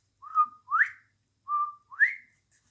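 A quail call, heard as two clear whistled two-note phrases, each a level tone followed by a rising slurred note, repeated after a short pause, close and alone. It may be a person whistling an imitation of the call.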